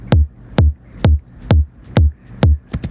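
An FM-synthesized kick drum with a punchy body and sharp click transient thumps six times in a steady, evenly spaced rhythm, each hit deep and short with a pitch drop, followed by a couple of quick softer taps.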